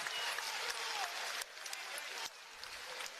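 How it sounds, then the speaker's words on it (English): At a Big Ten college wrestling dual between Princeton and Iowa, the arena crowd roars in a faint, distant wash of cheering that drops down in two clear steps, with no nearby voices. "You can hear the crowd getting into it to get Kaleb Young moving."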